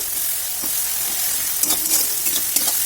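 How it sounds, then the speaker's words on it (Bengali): Chopped onion frying in oil for a Bengali fish curry of amudi fish, a steady close sizzle with a few soft stirring scrapes near the end, no talking. "পেঁয়াজ কুচনোটা দিয়ে বেশ ভালোভাবে ভেজে নেব"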